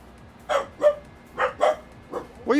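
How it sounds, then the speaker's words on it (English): A dog in Farming Simulator 25 barks indoors, several sharp barks and yips in an uneven rhythm, close and fairly loud, with no talk over them. "What are you barking for?"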